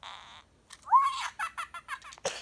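A Fingerlings toy gives a short electronic fart sound, followed by a quick run of squeaky, giggly chirps, all close and fairly quiet.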